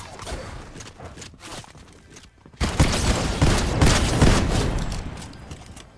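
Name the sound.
sniper rifle shot in Fortnite video game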